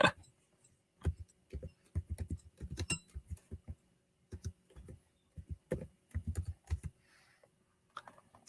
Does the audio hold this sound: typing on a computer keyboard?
yes